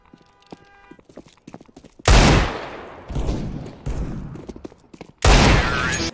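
Pistol gunfire from a Glock in CS:GO, loud sharp bursts of shots after a quieter opening with faint clicks, the shots coming in several clustered volleys with a voice reacting between them.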